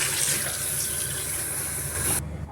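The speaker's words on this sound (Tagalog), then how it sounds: "Hugasan muna natin to para mawala yung taba-taba niya." Steady rush of running tap water washing meat, continuous and close, with faint handling noises, cutting off abruptly near the end.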